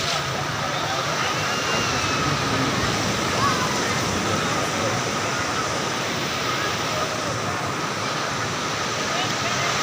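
Steady roar of surf washing onto the beach at Cox's Bazar, Bangladesh, continuous and broad, filling the scene without pause.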